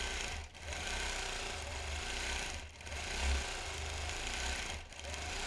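A sewing machine runs steadily while stitching down pleats on a quilt, a close continuous mechanical whir broken by brief pauses every couple of seconds.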